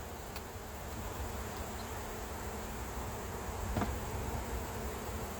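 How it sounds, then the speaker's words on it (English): A dense swarm of honey bees drones around an open hive while honey is being pulled, a steady, continuous buzzing hum with a faint higher whine, fairly quiet and unbroken throughout, with no voices. "There's so many bees."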